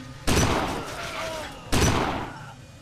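Gunfire in the video game Kane and Lynch 2, two loud shots about a second and a half apart, each a sharp blast with a long decaying tail, close and prominent.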